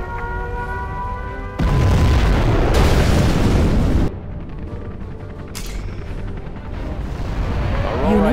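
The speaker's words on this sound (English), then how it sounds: "We have launched our nuclear missile." A nuclear missile detonation in Command & Conquer Generals Zero Hour rumbles as a loud, sustained boom, swelling suddenly then dropping to a lingering roar with scattered crackles, amid battlefield noise.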